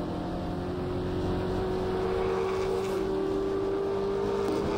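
NZV8 V8 race car heard onboard at Ruapuna Park during a race, a steady loud engine drone with a sustained tonal whine throughout, close and continuous.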